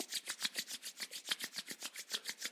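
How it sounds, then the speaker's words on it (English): Palms rubbing briskly back and forth during a yoga class, a steady run of about twenty quick, soft rasping strokes at an even rhythm, close and fairly quiet with no talking. "let's generate some energy between our palms by rubbing them against each other"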